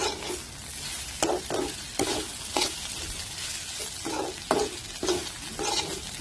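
Vegetables sizzle and fry in a pan, a steady hiss broken by repeated scraping strokes of a spatula stirring them, close and fairly loud with no talking.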